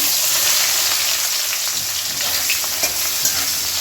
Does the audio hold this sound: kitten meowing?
no